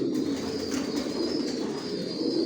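Johnson-line racer pigeons in a loft give soft, low cooing that runs on throughout, steady and moderately faint with no talking over it.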